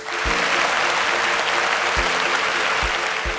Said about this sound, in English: Please a round of applause for our Super Sparks.